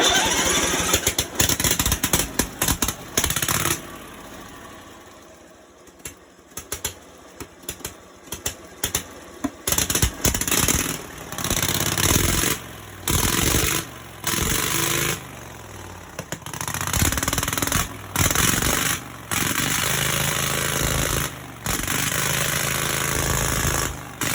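A mud mower engine starts and runs with loud, rough, choppy bursts, repeatedly cutting in and out after being switched on by push button, close up with no talk.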